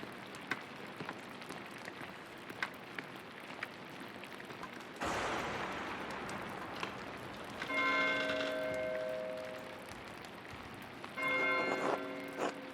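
A church bell tolls twice in a medieval abbey in the game Pentiment, calling monks to the chapter house. Its ringing, lingering tones sit over steady rain on the ground, with soft thuds early on.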